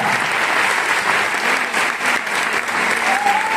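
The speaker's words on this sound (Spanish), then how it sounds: "aplausos, por favor." Audience applauding dancers at a bagpipe band concert with a municipal band, loud, sustained clapping from a large crowd, steady throughout with a faint whistle or cheer near the end.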